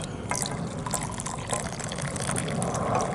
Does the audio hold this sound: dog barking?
no